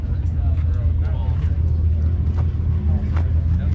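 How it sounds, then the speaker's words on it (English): Steady droning tire roar and low engine rumble from a Buick-engined hot rod running on Nashville Superspeedway, constant and loud inside the car, with occasional faint talk over it. "A lot of tire noise."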